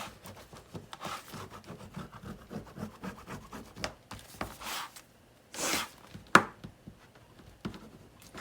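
Gold pleather covering is pressed and rubbed down onto a soft-spine journal by hand, giving uneven bursts of soft scraping and rubbing strokes, close up with pauses between.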